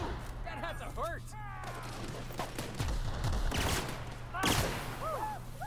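Gunfire in The Outer Worlds, a weapon that burns targets to ash, comes as repeated sharp bursts mixed with game sound effects and overlapping talk throughout.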